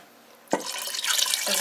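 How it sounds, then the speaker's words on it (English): Water gushes and splashes into a chicken soup pot, starting with a sudden pour and a sharp splash, then running steadily and loudly for over a second with no talking. "I'm going to add in another 8 cups of water"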